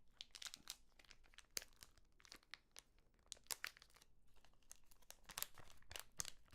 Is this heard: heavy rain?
no